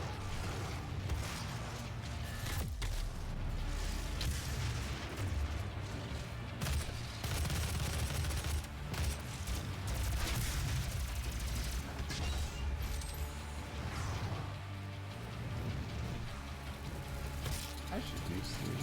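Explosive rounds weapon mod firing in Doom (2016): sustained volleys of punchy shots and mechanical clanks over a loud, rumbling combat bed, with a voice talking intermittently.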